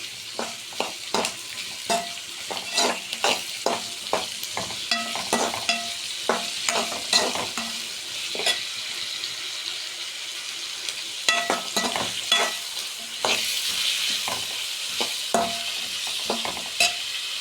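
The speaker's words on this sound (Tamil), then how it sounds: "நல்லா போட்டு நல்லா வதக்கிட்டு நெக்ஸ்ட் வந்து நல்லா நல்லா வதங்கி வரணும்" Mushroom gravy ingredients sautéed in a pan hiss steadily while a spatula scrapes in quick, rhythmic strokes, close and clear, with a short pause midway.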